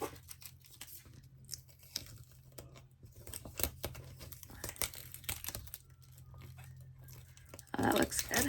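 A backing sheet is peeled from a patriotic-themed paper craft piece, giving a close, drawn-out crinkling tear with soft crackles and a louder rip at the finish.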